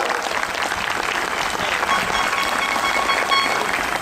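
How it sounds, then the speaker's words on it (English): Dense, steady applause fills a graduation ceremony, a broad continuous wash of many hands clapping at once without a break, loud and sustained throughout. "let's give them all a big round of applause"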